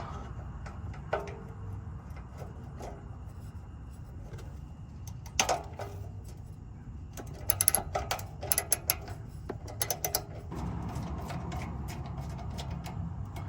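A ratchet works loose a 10 mm bolt on a BMW exhaust near the valve actuator, with quiet rhythmic clicking, a few sharper metallic ticks and clinks midway, close under low background hum.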